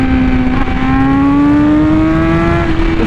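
A Honda Fireblade RR-R SP motorcycle with an SC Project exhaust screams at high speed, one loud engine note climbing steadily through the revs with no break, close and alone.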